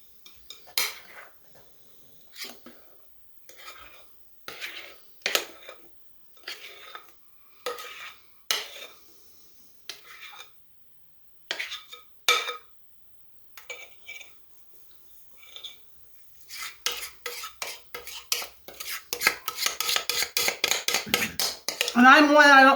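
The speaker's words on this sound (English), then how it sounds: "so that's why I'm trying to scrape out as much as I can out of here" A spatula scrapes rhubarb cake batter out of a mixing bowl: scattered clinks and scrapes at first, then a dense run of fast, rhythmic scraping strokes near the end.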